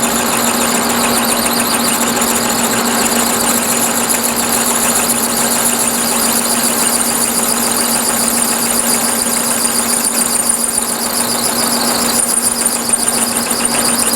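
An end mill cuts into a hardened grade 8 bolt, a continuous loud high-pitched metallic squeal with a steady machine hum beneath, unbroken for the whole stretch and free of talk.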